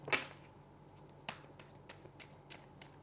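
Tarot cards being shuffled, opening with one louder riffle and followed by a run of faint, evenly spaced card flicks, quiet and close with no talking.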